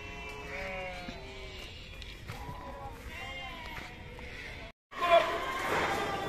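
A goat at a crowded livestock market in Deonar bleats repeatedly in wavering calls, close and fairly clear, with other animal bleats and market murmur around it and a brief dropout near the end.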